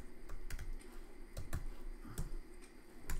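Quick bursts of clicky keystrokes on a Mac computer keyboard as a command is typed, close and moderately quiet, with irregular taps and short pauses.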